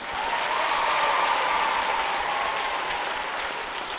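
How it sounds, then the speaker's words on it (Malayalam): An audience at a parish meeting at Little Flower Church, Madappally, applauds a speaker with sustained, even clapping from a crowd that holds steady for several seconds. "നമുക്ക് സാറിന് ഒരു കയ്യടി കൊടുക്കാം"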